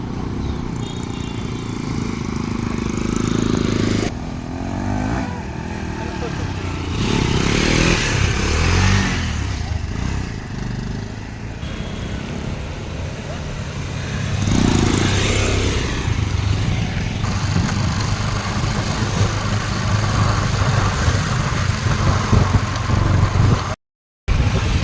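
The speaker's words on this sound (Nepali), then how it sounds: "अङ्कलले यस्तो बाइक राइड हालिरहेको छ होइन" A motorcycle engine runs steadily throughout, droning and revving with shifting pitch on a ride toward Holi celebrations in Basantpur, fairly loud and close, with no clear talking over it.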